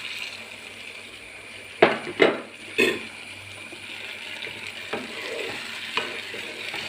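Cornflour slurry poured into a sizzling egg chilli pan, a few quick splashy stirring bursts over a steady soft frying hiss, close and moderately loud.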